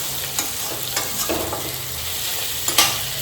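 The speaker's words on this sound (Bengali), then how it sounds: "এখন করছি হচ্ছে মাছের তেল ভাজা, নুন দিয়ে দিলাম, পেঁয়াজ দিয়ে দিয়েছি" Fish oil fries in a pan with salt and onion, a steady close sizzle punctuated by a few scraping stirs, with no talking.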